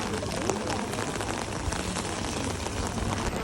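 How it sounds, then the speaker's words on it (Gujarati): Heavy rain pours steadily onto a Strasbourg street, a dense and even patter of drops on the pavement that continues without a break. "પણ વરસાદ થોડોક વધારે હતો એટલા માટે તમે જોઈ શકો છો બધા ઊભા રહી ગયા છે"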